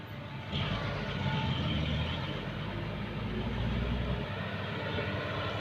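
A diesel truck engine runs rough and misfires, emitting white smoke, with a loud, steady low rumble that holds for several seconds close by.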